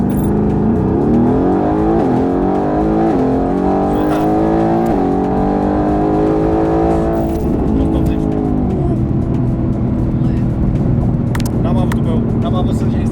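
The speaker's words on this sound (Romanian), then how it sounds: "hai să vedem cât face 0-100 fără launch control" A race car with a 7 kg hood accelerates from 0 to 100 km/h without launch control, its engine rising steadily through several gear shifts, loud and close, while people talk over it.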